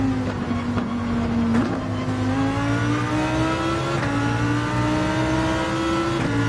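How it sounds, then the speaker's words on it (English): A Lamborghini engine in Gran Turismo 7 online racing at Interlagos revs and holds a high, steady drone, its pitch climbing gradually with brief dips at gear changes, loud and continuous throughout. "Now I often rev the Lamborghini"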